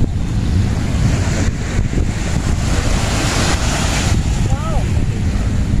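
Strong wind buffets the microphone on Dolomite Beach, a loud rumbling rush with surf-like swells that never lets up, and a brief faint voice near the end.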